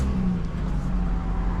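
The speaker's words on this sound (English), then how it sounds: "I'll go ahead and crank the motor up." A 2014 Thor A.C.E. small Class A motorhome's engine turns over and settles into a steady low idle, heard nearby with no talking.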